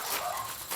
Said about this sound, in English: Come on, puppy.